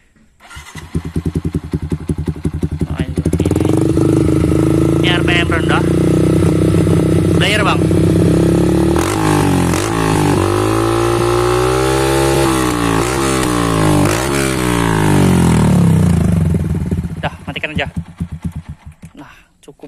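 A Yamaha MX King motorcycle with an aftermarket Akrapovič exhaust revs repeatedly up and down at close range, deep and throaty, loud and sustained, with brief idle between blips.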